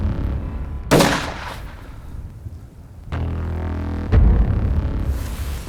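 Rifle shots fired at a giraffe on a hunt, one sharp loud crack followed after a pause by two more sudden reports, each ringing out over low outdoor rumble, with no speech.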